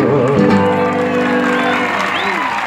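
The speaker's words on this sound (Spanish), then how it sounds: "muchísimas gracias por todos sus aplausos" An audience at a live tango performance applauds in a continuous wash of clapping with faint cheers. It plays under sustained musical tones and a voice, at a loud, close level.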